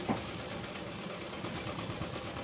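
A sewing machine double-stitches a new nighty with a fast, even, moderately quiet whirring hum that runs unbroken.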